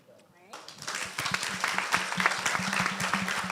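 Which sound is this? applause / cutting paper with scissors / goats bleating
applause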